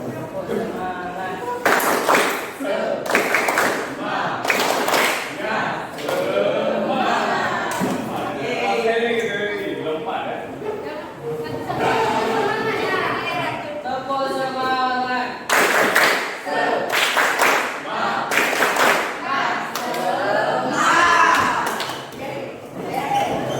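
Indonesian classroom of students performing 'tepuk semangat' spirit clapping, a rhythmic patterned sequence of sharp group claps in bursts, mixed with chanting voices, during a teacher's coaching and academic supervision practice lesson.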